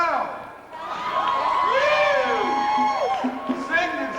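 Sold-out crowd cheering, a dense wash of whoops, shouts and high excited voices that swells and stays loud across the whole stretch.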